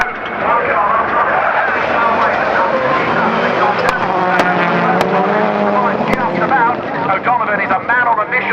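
Rallycross supercars race at Croft in the British championship, several engines roaring loud and close with sustained high revving and rising pitch as cars pass, a commentator talking over the racket throughout.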